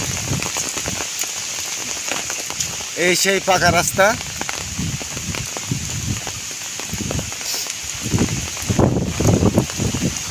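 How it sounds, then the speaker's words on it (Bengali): Heavy rain pours in a dense, constant hiss on a paved road during a storm with flooding all around, loud and close, while someone talks briefly over the downpour. "প্রচণ্ড বৃষ্টি হচ্ছে দেখেন সে দেখার মতো না সে বৃষ্টি আর বৃষ্টি"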